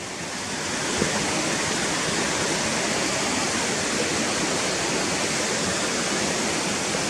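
A river runs over stones in a rocky gill, a steady broadband rush of water close by that holds constant and loud throughout, with no talk.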